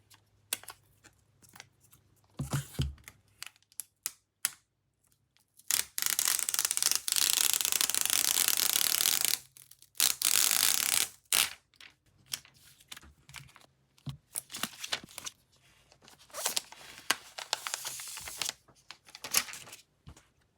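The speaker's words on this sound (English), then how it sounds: "Let's get this plastic off." Plastic wrap is peeled and crinkled off a sealed 2012 iPad mini in sharp, irregular bursts, with one long tearing stretch in the middle, close up and with no talk.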